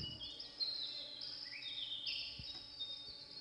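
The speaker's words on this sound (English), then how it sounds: "Listen at that bird praising God." A songbird sings in short, high warbling phrases and chirps that slide in pitch, fairly faint, over low background hiss, with no talking.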